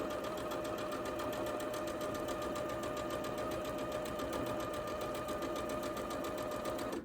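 A sewing machine with a quarter-inch foot stitches a quilt border in cream thread, a steady fast mechanical whirr running alone and unbroken at close range.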